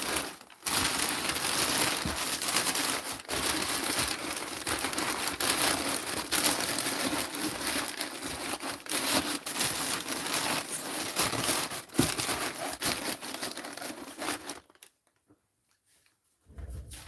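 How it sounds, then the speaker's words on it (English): Packing paper is crumpled and stuffed into a shipping box for an order, a continuous close crackle and rustle with sharp crinkles, then a sudden stop into near silence. "So a little paper on the bottom, then we'll go around the edge with the paper as well."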